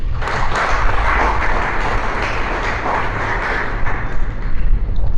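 A crowd applauds steadily for several seconds, dense clapping filling the room with no voices over it.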